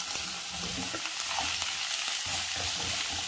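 Green papaya sautés in hot coconut oil in a pan for a papaya masala curry, giving a steady loud sizzle with soft stirring scrapes underneath; no voices.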